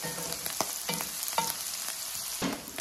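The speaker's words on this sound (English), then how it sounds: "You want to let them all have room to sizzle." Morel mushrooms sizzle and crackle in butter in a pan, with occasional stirring scrapes punctuating the steady frying hiss.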